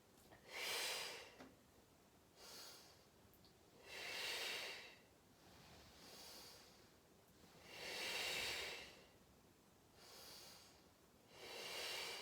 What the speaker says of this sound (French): J'inspire et j'expire